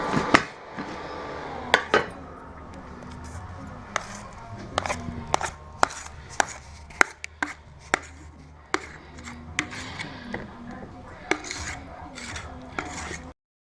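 Knife cutting almond halwa into pieces on a plate, sharp separate taps and scrapes at an irregular pace, close and fairly quiet, with no talking.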